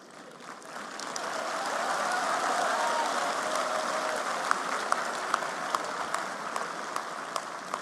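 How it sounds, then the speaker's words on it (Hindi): An audience breaks into applause after a speech by Prime Minister Modi, clapping swelling quickly to a dense sustained roar, then thinning slightly with a few distinct sharp claps toward the end. "तो जितनी वहां समझ थी उतने हिसाब से तालियां बजी।"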